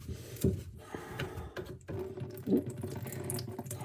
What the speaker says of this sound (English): There's the water flowing.